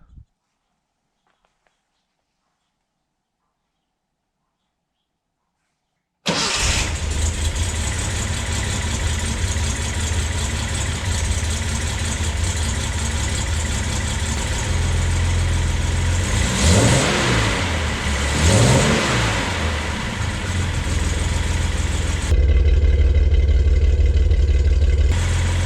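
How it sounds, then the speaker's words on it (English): A rebuilt Datsun 280Z engine cranks and catches after a quiet start, then runs steadily at a loud, even idle with a couple of brief rev rises partway through. "it's running real good"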